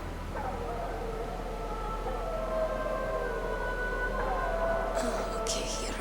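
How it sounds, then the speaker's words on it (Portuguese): Dogs howl in the game Metal Gear Solid, long wavering tones drawn out over a low steady hum, with a brighter burst near the end. "Os cachorros chorando"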